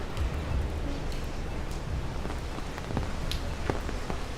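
Steady rain hisses across a New York City street in the morning, a dense even wash of falling water with scattered sharper drop taps, heard alone without talk.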